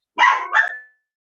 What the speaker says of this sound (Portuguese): a cachorrinha dela, acho que... Começou a latir